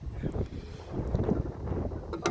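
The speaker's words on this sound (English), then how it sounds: "wind's getting up again" Wind blowing outdoors, a steady gusting rush buffeting the microphone with low rumble throughout, moderately loud and without clear speech.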